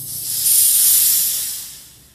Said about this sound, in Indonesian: Kalau saya ini kukusnya dengan api sedang.